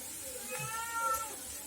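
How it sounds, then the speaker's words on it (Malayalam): A cat meows once in a kitchen during cooking, a drawn-out, rising-and-falling call of moderate loudness over quiet room noise. "പൂച്ച വന്നോ?"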